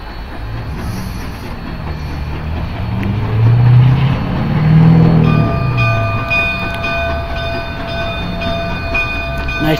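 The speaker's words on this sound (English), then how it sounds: "Here comes a train. The 44 is coming back from the Y." Steam locomotive number 44 on the Cumbres and Toltec narrow-gauge railroad approaches with a swelling rumble that peaks midway. Sustained whistle tones join and carry on to the end.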